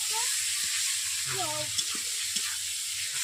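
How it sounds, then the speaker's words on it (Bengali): Garlic paste frying with onions in a pan for a snail curry, a steady bright sizzle running the whole time with a few soft stirring knocks and a brief voice in the background. "পেঁয়াজের সঙ্গে কষিয়ে নিচ্ছি রসুনগুলোকে এক থেকে দু মিনিট"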